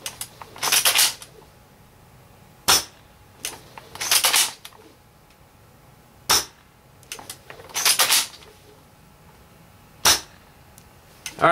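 Dragunov rifle fitted with a PSO-1 scope fired at a tree about 125 feet away outdoors: several sharp, separate reports spaced a few seconds apart, each followed by a short rustling burst, with no talk.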